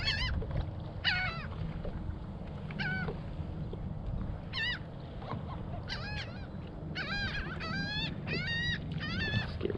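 Birds, likely gulls, call repeatedly over open water during a trout fishing outing from a boat, with a mix of far and near squawks over a low rumble of wind or engine.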